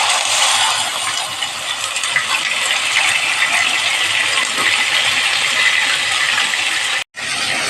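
Ground onion paste fries in hot oil for chicken varuval, a loud, close, continuous sizzling hiss that breaks off briefly near the end, with no talking.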